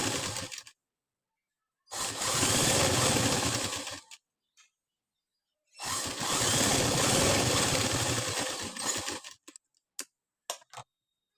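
A sewing machine stitches a blouse in two long continuous bursts of rapid mechanical whirring, each about two seconds or more, separated by silence and followed by a few short clicks and brief taps.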